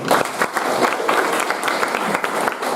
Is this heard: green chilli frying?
no